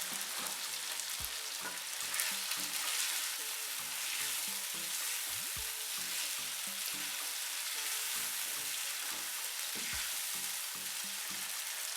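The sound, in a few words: potatoes and peas frying with spices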